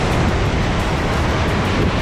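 Rough surf rolls onto a rocky Big Island shoreline in Hawaii, a loud, continuous roar of churning water and spray with faint wind buffeting, close by and with no voices.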